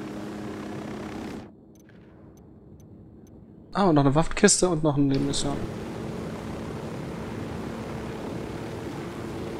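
A helicopter in the video game Ghost Recon Wildlands gives a steady low rotor and engine drone throughout, briefly dropping out before returning as someone talks over it.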